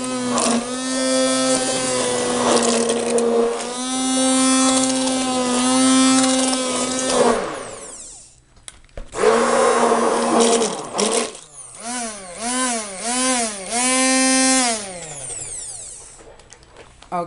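A hand blender whirring through lemon baking soda soap, a loud tonal motor whine that runs, cuts out briefly, then returns in pulsing bursts with rising and falling pitch.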